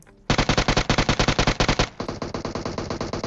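Gunfire from players in a tower during a battle royale video game: a loud, rapid automatic burst of evenly spaced shots, followed by a second, slightly softer stream of rapid fire. No voices are heard.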